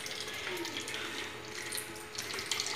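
Tap water runs steadily into a spray bottle, a constant close splashing gush that lasts the whole time and is not broken by any talking.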